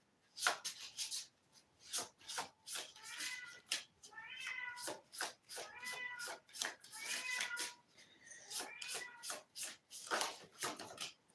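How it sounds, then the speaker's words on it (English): A house cat meows again and again, roughly ten drawn-out cries coming in uneven bursts, loud and close, with a few brief rustling thuds between them. "I'm probably gonna have to go shut the cat up."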